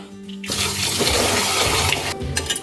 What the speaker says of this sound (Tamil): அரை கப்பு ரேஷன் பச்சரிசி எடுத்திருக்கிறேன் இப்போ இதை வந்து நல்லா கழுவிக்கலாம்